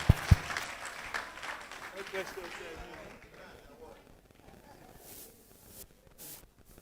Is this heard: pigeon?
no